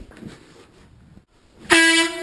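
An air horn bought at Pep Boys blasts loud and sustained in an office after a brief quiet stretch, a harsh piercing tone that cuts off the near-silence before it.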